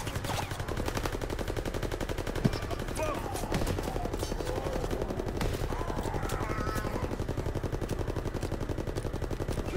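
Continuous rapid machine gun fire in a WWII zombie shooter game, a steady loud rattle of bullets filling the whole stretch, with voices talking over it.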